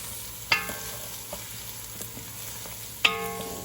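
Minced garlic cooking in a pan, giving a soft continuous sizzle and stirring scrape, broken twice by sharp clinks of a utensil against the pan.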